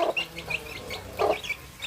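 Backyard chickens at a home farm clucking as feed is handed out, a busy series of close, repeated clucks and short squawks from several birds, moderately loud with no talking.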